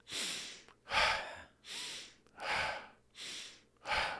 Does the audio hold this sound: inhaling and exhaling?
yes